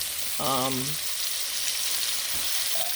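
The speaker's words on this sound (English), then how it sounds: "I've also added some grass-fed butter to this olive oil" Grass-fed butter sizzles in olive oil in a pan, a steady, close hiss of frying throughout, briefly broken by a short hum-like voice sound near the start.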